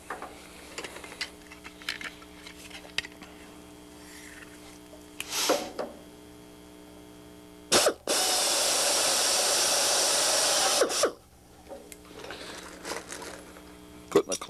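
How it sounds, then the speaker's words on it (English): A power drill whines in one sustained burst of about three seconds, loud and close, drilling holes in the aluminium skin of a Van's RV-6 aircraft fuselage, with quieter clicks and handling noises around it. "So we're going to go ahead and drill a few of these in and get started."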